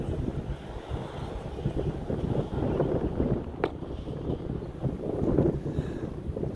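Strong gusty wind buffeting the microphone as a storm rolls in over Adelaide, South Australia, a continuous rough rumble that swells and eases, with no talk.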